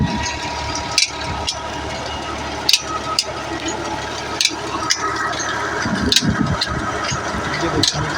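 An electric motor pumps water from a deep village well in Punjab near Jhang Road, Faisalabad, giving a steady mechanical hum and watery rush broken by recurring sharp clanks and rattles.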